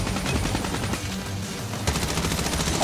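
Dense automatic gunfire in the Call of Duty Mobile video game, loud rapid bursts of close machine-gun shots with a brief lull and a sharp renewed volley near the end.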